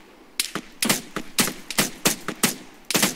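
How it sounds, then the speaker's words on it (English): ARMA 3 gunfire: about a dozen sharp cracks in irregular quick succession, each trailing a short echo, loud and close with quiet gaps between. "All I hear is the echoing of gunshots."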